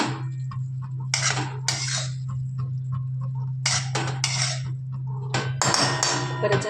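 Stuffed masala brinjal is stirred in a covered pan as a spoon scrapes and clinks against the metal in short bursts over a steady low stove hum.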